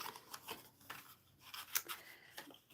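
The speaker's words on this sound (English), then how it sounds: "I'm going to have to go over it now with my scissors" Scissors snip through card in a string of short, crisp cuts with uneven gaps, close and fairly quiet, no talking.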